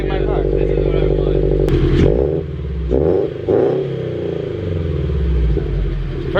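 A Subaru BRZ fitted with an OBX catback exhaust revs up close and loud, a deep burbling rasp that swells, dips and climbs again, with people talking over it.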